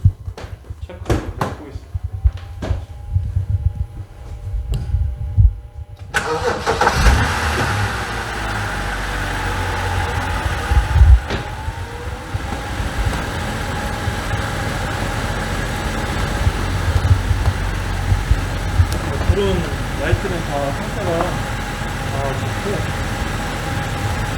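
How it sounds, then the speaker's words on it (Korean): A BMW F10 sedan's engine turns over with a sharp clunk after a few quiet knocks, then settles into a steady, moderately loud idle that runs on under people talking nearby. "시동 한번 걸어가지고"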